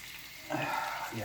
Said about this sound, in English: we've got the chorizo frying out here